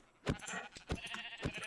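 Three short sheep bleats from Minecraft livestock, spaced roughly half a second apart, each a quick nasal burst standing alone without talk.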